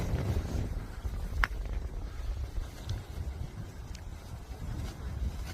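Strong, gusty wind buffets the microphone during paragliding ground practice, a rough, continuous low rumble with occasional faint thuds and no clear speech.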